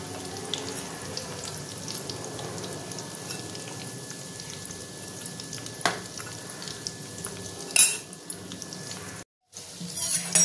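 Chicken bites fry in hot oil with a steady, dense sizzle that runs throughout, broken by a couple of brief utensil knocks near the end.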